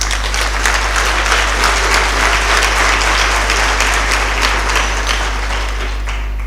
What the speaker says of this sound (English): Please, let's give her a big round of applause.